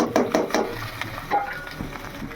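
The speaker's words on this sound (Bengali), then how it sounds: "তেল দিয়ে দিলাম, পেঁয়াজ কুচি দিয়ে দিলাম, তার সাথে শুটকি কাঁচামরিচ দিয়ে দিলাম" Chopped onion, dried fish and green chilies fry in oil with taro stolons while a spoon scrapes and clatters against the pan in quick irregular strokes over a soft background sizzle, close up.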